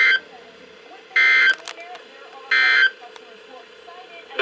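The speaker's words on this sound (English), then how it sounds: "Just got the notification on my phone." Emergency weather alert tone sounding on a phone during a severe weather event, two loud, sustained, harsh beeps separated by a pause over a quiet broadcast background.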